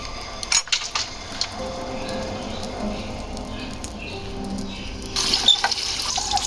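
Water from a bathroom tap runs into a container, with a few knocks and clatters at the start, a soft trickle in the middle and a louder gushing stream near the end, close by.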